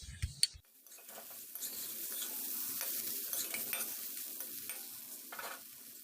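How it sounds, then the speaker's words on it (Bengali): Cauliflower frying over a low flame gives a soft, steady sizzle while a spatula stirs and scrapes the pan now and then, close but quiet, after a brief clatter at the start; no one speaks. "গ্যাসের ফ্লেমটাকে লো করে আমি ফুলকপিটা কন্টিনিউ নাড়াচাড়া করে ভেজে নেব।"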